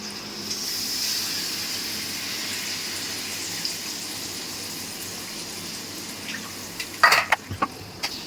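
Water poured into a pan of sizzling chicken curry, a steady hiss and frying crackle building to a brief burst of splashing and spattering near the end, close and fairly quiet.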